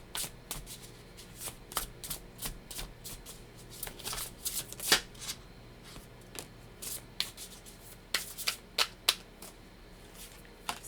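A tarot deck is riffled and shuffled by hand, giving a long run of crisp, close card flutters and snaps in uneven bursts with brief pauses, and no voices over it.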